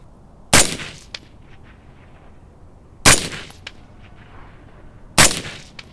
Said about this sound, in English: I'm actually going to shoot 3 shots because I want a group.